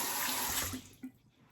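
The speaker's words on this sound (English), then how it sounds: "So I'm going to wet my face really quick." Running tap water splashes into a bathroom sink as a face is wetted, a steady rush that cuts off partway through, leaving a brief splash and quiet drips.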